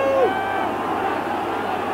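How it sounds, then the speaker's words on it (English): Rugby crowd at a Munster versus Australia match in 1992, a steady broad roar of cheering and noise from a large stadium audience, continuous throughout with a brief whistle-like tone near the start. "the crowd really getting behind the Munstermen"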